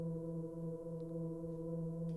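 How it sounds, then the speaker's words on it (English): Low, gritty synth pad made in Ableton, holding a sustained droning chord with steady harmonic layers, fairly quiet and even throughout, played alone. "I also had prepared a pad that was a bit lower and more kind of gritty to fill up a bit of the low end of"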